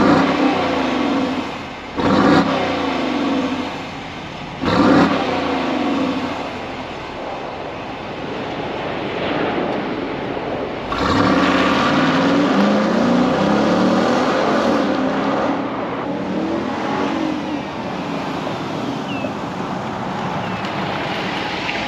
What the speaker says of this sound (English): do a few sound clips with the stock exhaust